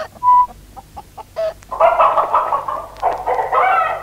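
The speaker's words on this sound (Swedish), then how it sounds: "Den här hönan ser misstänksam ut." A Rhode Island hen on a farm clucks close by, starting with a few short separate clucks and then breaking into a louder, drawn-out run of cackling calls.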